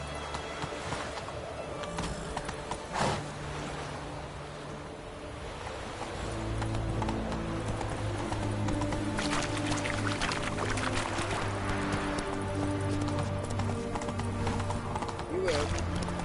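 Hooves of Roach, the horse in The Witcher 3, clopping at a trot, a rhythmic run of soft hits that starts partway through under game music and a spoken line.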